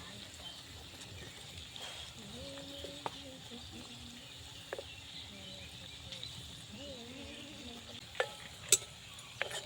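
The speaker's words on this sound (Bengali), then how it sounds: "পকোড়াটা একটু বেশি তেলে ভাজলে ভালো হয়," Cabbage pakoras deep-frying in plenty of oil give a faint, continuous bubbling sizzle, with a few quiet clicks and a soft voice murmuring in the background.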